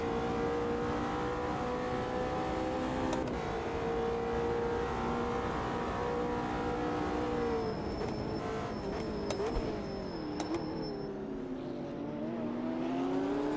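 A McLaren GT race car in the Automobilista 2 racing game, its engine droning and revving steadily under acceleration, with a sustained harmonic whine that rises and dips through gear changes across the whole stretch.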